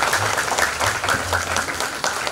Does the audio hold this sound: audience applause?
yes